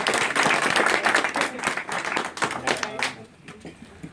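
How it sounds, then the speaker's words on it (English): An audience at a launch event with guests Krept and Konan claps and applauds. The applause is loud and dense at first, then thins into scattered claps and fades out after about three seconds. "let's just give another round of applause"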